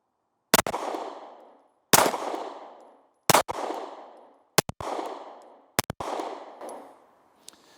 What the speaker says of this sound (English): we're going to draw and fire 5 rounds with support hand only